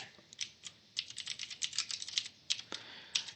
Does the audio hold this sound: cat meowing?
no